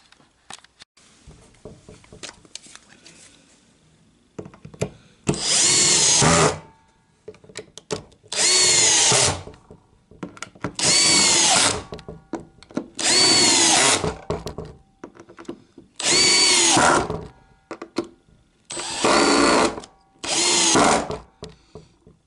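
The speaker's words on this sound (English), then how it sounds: "countersink that side, screw it together" Timber is countersunk and screwed together with a power drill: seven loud, whirring bursts of a few seconds each at close range, separated by quiet pauses with light handling clatter.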